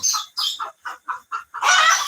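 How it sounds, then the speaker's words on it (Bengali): Farm chickens cluck close by in a quick run of seven short, evenly spaced clucks, ending in a longer, louder squawk. "এই হচ্ছে আমাদের কালেকশনের মুরগিগুলা"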